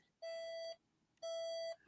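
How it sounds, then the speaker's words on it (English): A phone alarm sounds two short electronic beeps about a second apart, clear and tonal against a quiet room. "Sorry, my alarm on my phone just went off"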